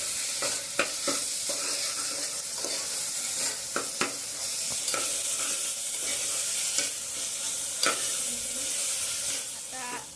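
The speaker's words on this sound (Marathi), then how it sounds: "मिक्स करून घेऊया आता" Chicken pulao with rice being stirred in a pot, a steady sizzling fry with repeated scraping and clinking strokes of the spoon against the pot throughout, close and fairly loud.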